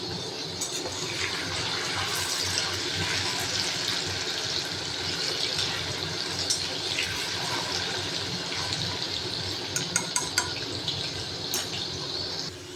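Potato cubes fry in a pan of hot oil with a continuous, even hiss and bubbling that holds steady throughout, dotted near the end by a few sharp clicks.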